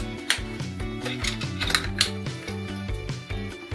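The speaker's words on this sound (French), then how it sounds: "on prend notre clé, on va serrer" A wrench tightens the disc onto a new angle grinder, giving a few close metallic clicks and ratcheting clanks with some tonal ringing as the parts are handled.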